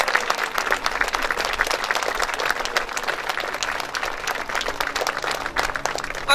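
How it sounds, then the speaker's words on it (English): Audience applause for teachers, staff and students at an elementary school building dedication and ribbon cutting, a crowd clapping steadily and briskly throughout, even and fairly loud with individual claps audible in the mix. "Let's give them a round of applause."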